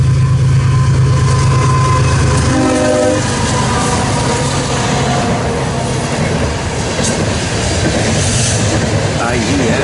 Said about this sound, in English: this is loaded coal heading on the BNSF Heartland Division